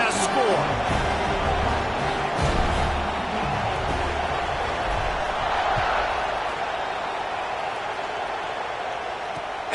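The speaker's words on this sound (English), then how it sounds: "this crowd is buzzing after that last score" Stadium crowd at a football game buzzing with a steady, dense roar after a score, continuous and fairly loud throughout with indistinct voices mixed in.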